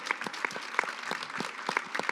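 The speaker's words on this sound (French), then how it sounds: "peut applaudir Sarah Ouamoun" Audience applause for Sarah Ouamoun at a women's conference event, a steady round of clapping with distinct individual claps, fairly close and continuous throughout, with a faint voice underneath.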